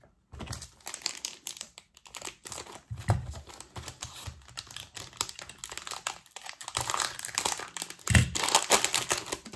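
A Pokémon booster card pack is torn and crinkled open up close, giving dense, irregular crackling and rustling foil noises with sharp tearing bursts throughout.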